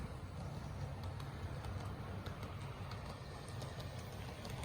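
Model locomotive 3507 runs on a figure-eight track, a continuous low mechanical rumble with a faint ticking of wheels over rail joints.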